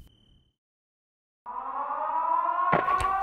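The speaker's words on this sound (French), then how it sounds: "Cette maudite sirène" After a short silence, the Siren Head siren from a horror story swells into a loud, sustained droning wail with layered tones, carrying on steadily to the end.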